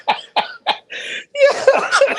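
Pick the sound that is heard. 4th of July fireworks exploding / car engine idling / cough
cough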